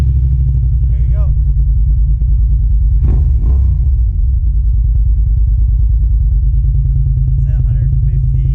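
A Suzuki SV650 motorcycle engine idles steadily and loudly up close, a deep continuous rumble lasting throughout, with a brief rise around the middle and a voice talking faintly over it.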